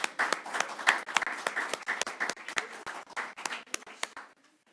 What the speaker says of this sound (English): Can we give our athletes a round of applause